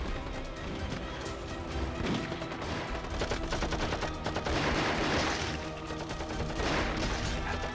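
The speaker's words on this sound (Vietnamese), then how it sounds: "sao cậu lại nổ súng vào người mình?" Dense, continuous gunfire from an anti-Japanese war action drama, with overlapping rapid bursts like machine-gun fire and volleys rolling loudly throughout, fairly close and heavy.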